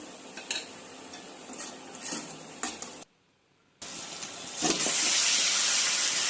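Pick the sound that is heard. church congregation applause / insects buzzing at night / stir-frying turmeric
stir-frying turmeric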